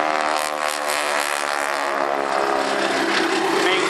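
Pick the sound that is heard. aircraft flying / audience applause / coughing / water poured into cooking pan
aircraft flying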